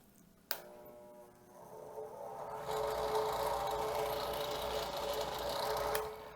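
A repaired power tool motor gives a click, then spins up after a twist and runs with a steady buzzing whine near the microphone, louder for a few seconds before winding down.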